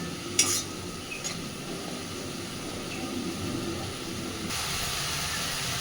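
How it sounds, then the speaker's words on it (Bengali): A spice masala for a spicy eggplant and katla fish dish fries on a medium gas flame, a soft continuous sizzle and hiss with an early sharp clink and occasional faint stirring scrapes, close and steady. "এবার শুধু গ্যাসের ফ্লেমটাকে একদম মিডিয়ামে রেখে সময় নিয়ে মশলাটাকে খুব ভালোভাবে কষাতে হবে।"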